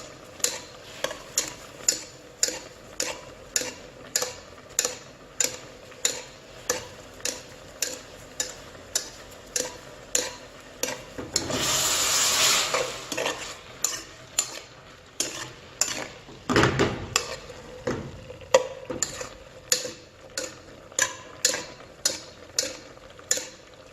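Mussels simmer in a reducing soy-based sauce for Korean honghapcho as a spoon basts them, making regular rhythmic scraping taps against the pan, with a brief burst of sizzling partway through.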